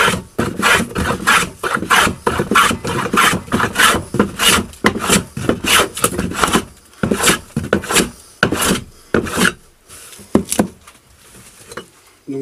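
A wooden peg for traditional timber framing is shaped on its last face with a steady run of close, loud rasping strokes, dense at first and then spacing out into separate scrapes near the end.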